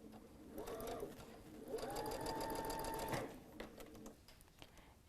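A sewing machine runs through quilt pieces sewn assembly-line style, in short bursts of rapid stitching with a longer steady run in the middle, quiet and close.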